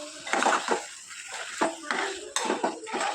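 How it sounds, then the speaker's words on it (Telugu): Mutton coated in salt and chili powder being mixed into tempering in a cooking pot for a spicy curry: metal scraping and clinking against the pot in repeated close strokes over a faint sizzle. "తాలింపంతా కూడా మటన్ పట్టేటట్లు బాగా కలుపుకోవాలి"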